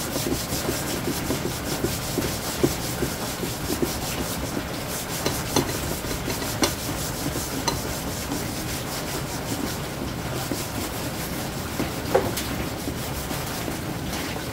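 Steady rough rubbing and scraping of a coarse, sandpaper-like leaf scrubbed back and forth as a cleaner, continuous and close, with a few sharper scratchy strokes.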